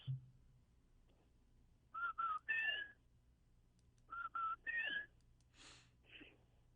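A person whistles an imitation of a chuck-will's-widow call, two three-note phrases separated by a pause, close and clear in a quiet room, followed by soft breaths.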